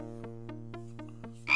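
Frog croaks in the Simon the Sorcerer adventure game: a low, buzzing tone pulsed in six even beats, close and steady, ending in a brief brighter burst.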